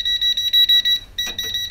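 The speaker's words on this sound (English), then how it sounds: "when I go to the white, I get a little beep here and there" A glass wall light set to white emits a steady high-pitched electronic beep that pulses and stutters, briefly interrupted by a soft click, close and alone.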